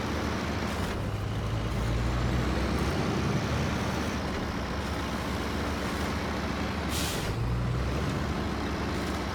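A truck pulling a trailer in SnowRunner drones with a steady, loud engine rumble, and a short hissing burst like an air brake cuts through partway along.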